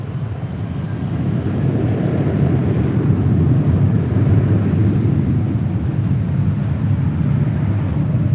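An airplane takes off from runway 24 left at LAX, a broad steady roar that swells and holds from a distance without talk.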